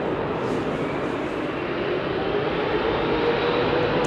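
A Japan Airlines jet at London Heathrow gives off a continuous, even engine roar at moderate distance, holding steady from start to finish.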